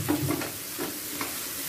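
Tomato softening in a little leftover mustard oil in a pan after frying fish, stirred with a wooden spatula: a steady close sizzle with soft scraping strokes running throughout.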